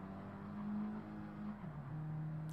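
A race car engine drones steadily in a racing video game, then its pitch drops as it engine-brakes through a turn, a continuous close hum that settles lower near the end.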